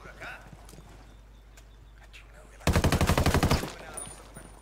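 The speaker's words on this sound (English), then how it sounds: "I want you guys to hear how good the gunshot sounds in this game are" A rapid burst of automatic gunfire rings out in Ghost Recon Wildlands, loud and close, after a quieter stretch with faint game ambience and a voice; the shots come in a tight rhythmic string lasting about a second.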